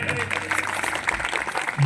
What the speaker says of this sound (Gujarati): રમેશરામ મહારાજને તાળીથી વધાવી લો.